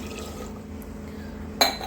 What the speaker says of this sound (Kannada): ಮತ್ತು ಇದಕ್ಕೆ ನಾನು 1 ಗ್ಲಾಸಷ್ಟು ನೀರು ಹಾಕ್ತಿದ್ದೀನಿ